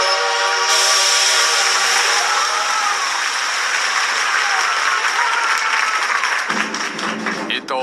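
Steam locomotive whistle sounding as a train pulls into Harbin station, a loud sustained harmonic shriek held for several seconds before it shifts and fades into rumbling rail noise.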